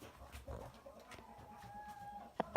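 Broody hens crowded into one nest box, soft low clucks and murmurs close by, ending in a couple of sharper louder squawks.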